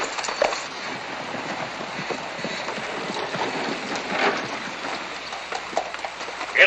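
Horses' hooves clip-clop in a 1941 western film, scattered uneven beats heard at a moderate distance through a noisy, windy soundtrack with no clear talk.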